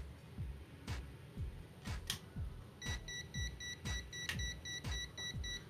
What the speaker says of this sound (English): We're getting an audible alarm.